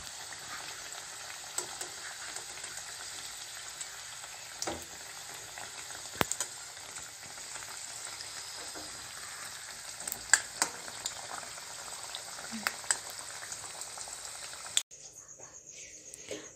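Vegetable kachori deep-fry in hot oil over medium heat, a continuous even bubbling hiss with occasional small pops and clicks, close by, fading abruptly near the end.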